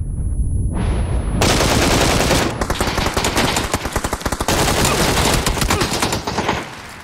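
Dense, rapid gunfire from a video game fills the whole stretch, with bursts of automatic fire and overlapping shots, loud and continuous.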